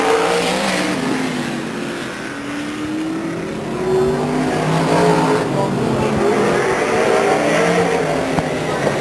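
Race cars run laps at Stockton 99 Speedway, their engines droning and swelling loudly as they pass in a continuous roar, while an announcer talks over the noise.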